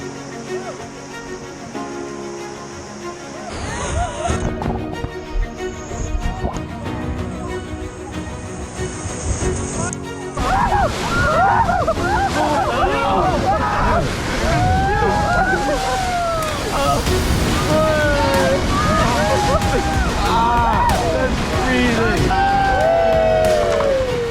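Whitewater rafting through river rapids on the Kicking Horse River in the Canadian Rockies: loud continuous rushing and splashing water, with a group's shouts and excited voices over the roar.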